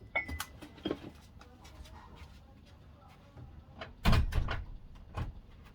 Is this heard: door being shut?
yes